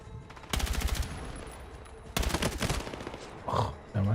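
Automatic gunfire in the video game Battlefield 6 comes in two rapid, loud bursts, followed by quieter sounds and a brief voice near the end.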